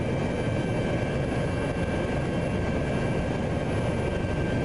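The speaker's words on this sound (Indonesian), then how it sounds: "Ini pesawat maritim Malaysia ya" A Malaysian maritime aircraft scooping water to fight fires gives off a loud, constant engine roar that fills the whole stretch without a break, with no talk over it.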